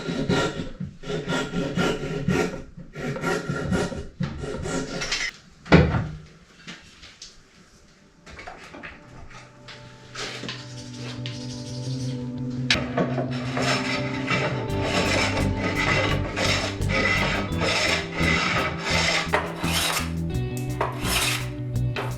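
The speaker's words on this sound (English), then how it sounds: "so that's the bottom planed kind of flat and square" Hand plane shaving the bottom of a wooden guitar body flat and square during a Firebird guitar build, heard as a run of rough, rasping strokes in the first few seconds before a steadier tonal sound takes over, with no talk.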